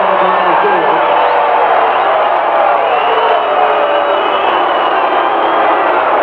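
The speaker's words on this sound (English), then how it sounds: "you can hear the reaction of the crowd" A football stadium crowd at a Los Angeles Express home game reacts to a touchdown called back by a flag, a loud, steady roar of boos and shouting that fills the air throughout, with commentary audible within it.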